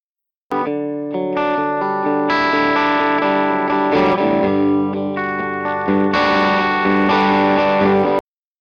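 Electric guitar with distortion and chorus effects rings out in an empty school hallway, captured by the room mic alone: sustained chords and notes with a reverberant, spacious tail, played continuously for about eight seconds.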